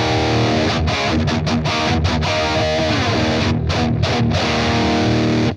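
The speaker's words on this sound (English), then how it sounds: "I've got that sort of classic tube screamer thing that you do where you drop the gain and" Electric guitar played through a Blackstar St James amp plugin with a tube screamer in front, a loud, heavily distorted high-gain riff with chugging chords and short pauses, alone without talk.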